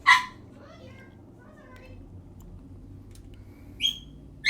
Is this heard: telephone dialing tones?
no